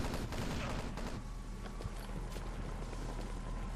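Rapid gunfire from obliterator weapons in a competitive multiplayer video game match: a dense, continuous barrage of overlapping shots and impacts, loud and sustained throughout, with no talking.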